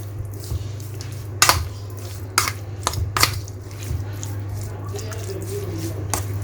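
Chicken is mixed by hand with garlic, salt and black pepper in a bowl, with soft wet squishing and a few sharp clinks against the dish over a low steady hum.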